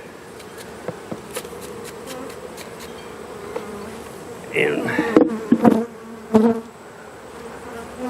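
Steady buzzing of many honey bees throughout, with a few sharp knocks and rustling handling noises partway through and a brief spoken word.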